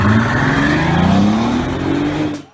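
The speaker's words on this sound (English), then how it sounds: "an insanely overpowered 6-liter W12 engine that makes over" A Bentley Continental GT coupe's 6-liter W12 engine revs hard, a loud, close, rising drone climbing steadily in pitch for a couple of seconds before cutting off abruptly.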